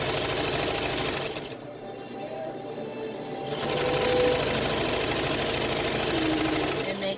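A sewing machine stitches fabric for a dog coat, a steady close mechanical whirring that breaks off briefly in the middle and then resumes, with a back stitch at the end.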